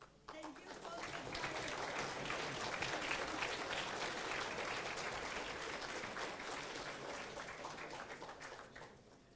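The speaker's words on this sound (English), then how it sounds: "Please applaud them." Steady audience applause at a programming contest closing ceremony for volunteers and teams, swelling quickly and holding at an even, moderate level throughout before tapering at the end.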